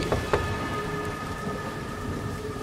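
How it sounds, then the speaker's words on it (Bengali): Steady rain hiss with a low, rumbling thunder roll and brief gusty surges, no voices. "বাইরে বজ্রপাত সহ বৃষ্টির সঙ্গে সঙ্গেই বয়ে চলেছে ঠান্ডা ঝোড়ো হাওয়া"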